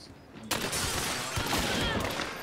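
Sustained bursts of rapid gunfire from a multiplayer shooter game, with loud, continuous shots and impacts that start abruptly and keep going over a busy game background.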